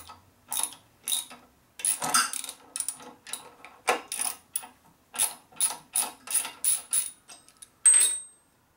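Thread tap turned deeper into a 1992 Harley-Davidson 80ci Evo engine case, a series of short, close metallic clicks and creaks in bursts, with brief pauses between turns.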